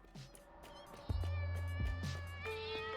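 A cat meows several times in short, plaintive calls over a steady electronic hum and low game ambience, loud and close, in the factory-building game Satisfactory.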